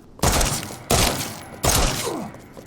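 Three loud, close pistol shots from the Broom HC handgun in Resident Evil Re:Verse, evenly spaced less than a second apart, each followed by a short decaying tail.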